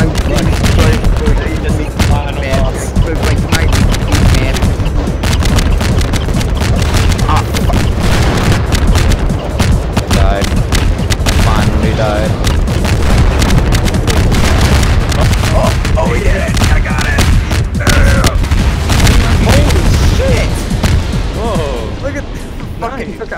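Rocket explosions in Garry's Mod VR, a loud, dense barrage of booms and crackling blasts rolling on nearly nonstop, with people shouting and talking over the chaos.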